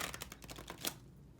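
Soft, rapid papery flicks and taps of tarot cards being shuffled, close and quiet, fading out toward the end.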